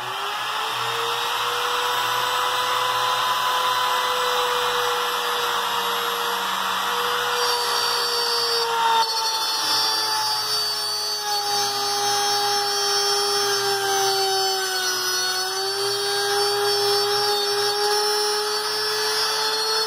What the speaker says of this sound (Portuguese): agora eu vou tirar na tupia isso aqui para mim conseguir encaixar essa pedra